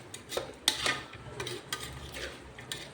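Vegetables, salt and spices being stirred in a pan for soya bean pulao, with scraping utensil strokes and clinks against the metal over a faint sizzle, close and moderately loud, no talking.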